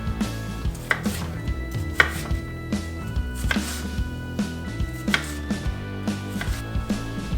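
A knife chops a quarter of a red onion on a cutting board in a kitchen. The crisp blows land in a quick, steady rhythm and sound close, with no talk.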